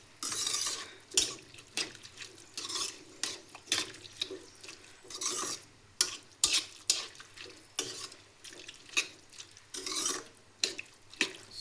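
Jaggery being stirred into cooking chavalikai (cowpea) palya, a steady rhythm of scraping spoon strokes with soft sizzling and wet mixing sounds, close and alone without talk.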